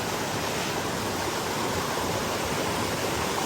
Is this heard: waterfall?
yes